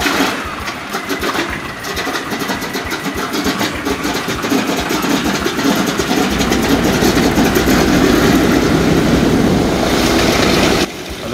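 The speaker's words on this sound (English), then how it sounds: "The mighty Wright Cyclones were cranked over in turn. The noise level went stratospheric." Wright Cyclone radial engines on a vintage bomber crank over and catch, building into a loud, continuous rumbling roar that grows steadily denser and louder before cutting off abruptly near the end.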